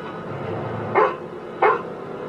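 A dog in a TV show gives two short, sharp barks spaced under a second apart, fairly close, over a low background rumble.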